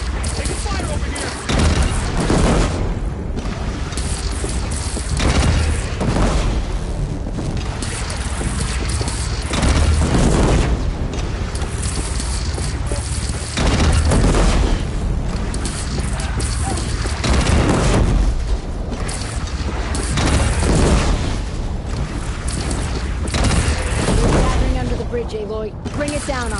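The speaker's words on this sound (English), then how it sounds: "They only have one cannon!" Cannon fire and explosions rumble nonstop through a battle at a bridge in the video game Horizon Zero Dawn, dense loud booms and gunfire layered over shouting voices throughout.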